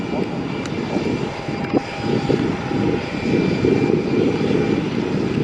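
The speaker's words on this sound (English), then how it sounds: "Here we go with our first landing of the day. It's another EasyJet, of course, here at London Luton." An EasyJet airliner lands at London Luton Airport on a summer evening, its broad engine roar steady and fairly loud throughout, with a faint whine on top.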